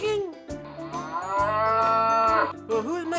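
A cartoon cow in a preschool farm-animal game gives one long, drawn-out moo that dominates the clip, loud and close, with a short vocal sound at the end and no talking.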